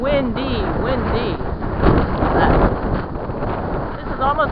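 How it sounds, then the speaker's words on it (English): Strong wind buffets the microphone during brush fires, a loud continuous roar that surges and dips, with someone talking over it. "Windy, man. Windy, windy."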